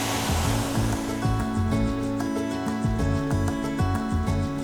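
Heavy water rushes over a forest waterfall swollen after rain on a backpacking trail in Victoria, Australia: a loud, steady broadband roar that fills the whole clip with no pauses.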